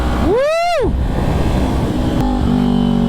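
A motorcycle riding along an open road on a breezy day, with a loud steady engine and wind rumble throughout, plus a rising-then-falling whoop of engine pitch near the start.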